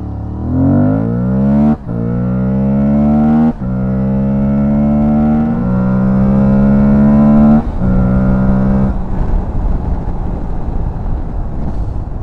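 An Aprilia Tuareg 660 motorcycle accelerates hard from a standstill toward 100 km/h. The engine revs rise loudly through several gears, with short dips at each shift, then ease into a rougher, steady drone.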